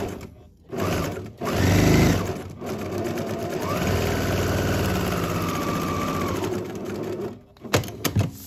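A sewing machine stitches a quarter-inch seam on a quilt for a tennis bag, running in a fast, steady whir for several seconds between short bursts and pauses, close and alone with no talking.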